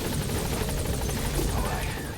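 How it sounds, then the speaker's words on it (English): A golden helicopter in Metal Gear Solid V, its rotor giving a loud, steady, close chopping thrum that fills the whole moment without a break. "Look at this glorious golden helicopter."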